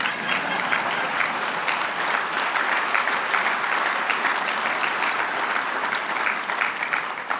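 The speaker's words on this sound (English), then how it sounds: "Ken, I thought that would get an applause." An audience at a legislative conference breaks into sustained, dense applause that holds steady throughout, with many hands clapping at once.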